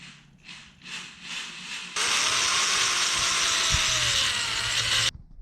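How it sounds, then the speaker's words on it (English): A few ratcheting clicks, then a power drill with a 1/4-inch bit whirs steadily for about three seconds, boring into a wooden hangboard before stopping abruptly. "drill into your hangboard where you just mark those top 4 holes using the 1/4" drill bit"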